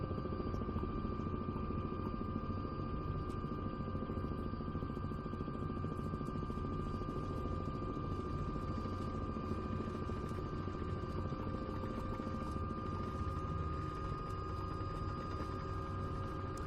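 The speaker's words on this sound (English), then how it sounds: "The H125 is a lot more powerful, but the Robinson does have it beat when it comes to visibility out of the cockpit." H125 helicopter engine in a flight simulator game, a steady turbine whine with tonal hum and a continuous rotor drone holding even and loud throughout, no talk.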